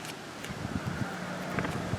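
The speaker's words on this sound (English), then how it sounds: "All of a sudden it's really windy." Steady wind buffeting the microphone, a continuous rough rumble with gusty low thumps throughout, no voices.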